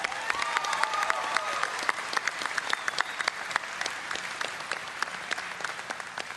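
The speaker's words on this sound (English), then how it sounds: "if you could just give a big hand to those guys out there" Audience at BlizzCon 2010 applauding, a dense sustained wash of clapping from a large crowd with sharper individual claps standing out, steady throughout.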